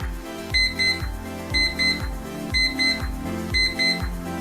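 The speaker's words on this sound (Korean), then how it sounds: "이렇게 알람 소리로 알려줍니다" A kitchen countdown timer's alarm rings at zero, sounding as four repeated bursts of bright double beeps about once per second, moderately loud and steady, with no talk.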